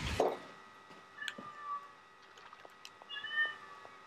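A cat meows and warbles in a drawn-out, wavering way, several faint to moderate calls spread over a few seconds, with a sharp knock at the start and a low background hum.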